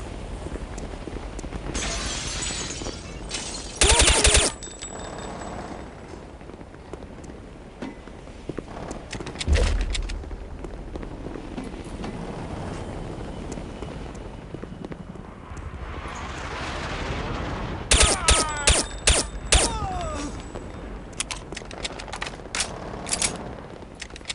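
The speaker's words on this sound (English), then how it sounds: "their leader's got a heavy machine gun, and it's pretty powerful" Heavy machine gun fire in the video game Counter-Strike: Condition Zero arrives as loud rapid bursts of shots with sharp impacts and breaking glass, separated by quieter stretches of ambient game noise.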